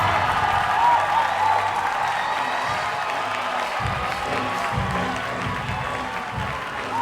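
A standing audience at a stand-up comedy competition final applauds and cheers the winners, loud sustained clapping with scattered whoops and crowd noise under faint music.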